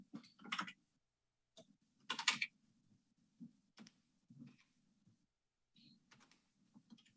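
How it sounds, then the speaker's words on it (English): Scattered keystrokes on a computer keyboard come in short bursts with quiet pauses between them, faint and close, with no talking. "I know my typing is absolutely abysmal"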